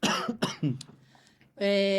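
A few sharp, close coughs in quick succession, then a sustained hoarse throat sound trailing off at the end.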